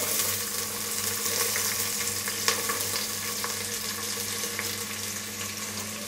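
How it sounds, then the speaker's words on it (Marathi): Onion frying in oil with whole spices, a continuous dense sizzle holding steady throughout with a faint low hum underneath and no voices. "आणि हा कांदा आहे ना तो सोनेरी रंगावर परतून घ्यायचा आहे।"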